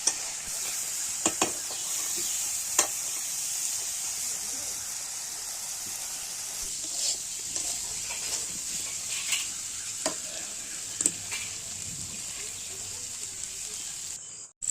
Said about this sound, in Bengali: এখন মাংসটি কড়া থেকে দিয়ে দিয়েছি মশলার মধ্যে। এখন ভালো করে নেড়ে নিচ্ছে।